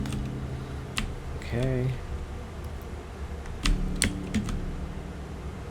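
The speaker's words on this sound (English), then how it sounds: "now I'm using the keyboard again" Computer keyboard keys pressed while playing a PC game, a few scattered clicks and a short cluster of taps, with a brief spoken word and faint background game sounds.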